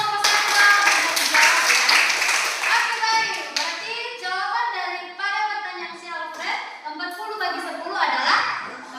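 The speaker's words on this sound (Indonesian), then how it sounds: "Tepuk tangan untuk kelompok 1" A school class clapping for a group of students in a classroom: a burst of rhythmic clapping mixed with children's voices and chatter, fairly close and continuing as talk carries on.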